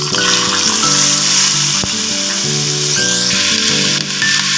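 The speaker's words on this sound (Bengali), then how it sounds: "পেঁয়াজটা ভালো করে একটু ভেজে নেব।" Onion paste fries in a pan of hot oil, a loud, continuous close-up sizzle with a steady tonal hum running beneath it and no talking.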